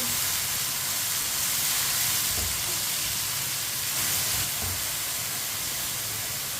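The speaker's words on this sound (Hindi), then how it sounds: "अब पालक को 4-5 मिनट के लिए इसी तरह पका लेंगे चम्मच चलाते हुए" Finely chopped spinach sizzles steadily in a hot pan as it is stirred with a spoon, a continuous close frying hiss without pauses.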